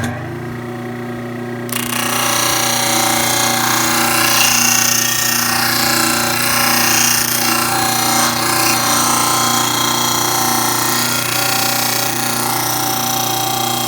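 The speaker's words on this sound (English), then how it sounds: "So let's go ahead and sand some stuff." Disc sander fitted with a fresh 80 grit sanding disc: after a quiet hum, the motor kicks in at about two seconds into a loud, steady droning whine with a coarse grinding edge that holds evenly to the end.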